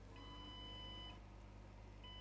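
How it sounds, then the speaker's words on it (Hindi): A desktop PC that will not display, beeping on power-on with a RAM fault code: long, steady electronic tones, one lasting about a second, then a pause and another starting, all over a low constant hum. "आपको बीप की आवाज़ सुनाई दे रही होगी शायद"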